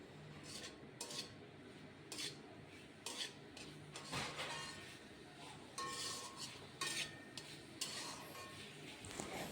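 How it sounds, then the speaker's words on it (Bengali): Vegetables for a veg moong dal are stirred and sautéed in a pan: a spoon scrapes and clinks against the metal in irregular bursts over a soft sizzle, close and moderately loud, with no talking. "সবজিগুলো দিয়ে কিছুক্ষণ এরকম কষিয়ে নেব, তাহলে সবজিগুলো হালকা ভাজা ভাজাও হয়ে যাবে।"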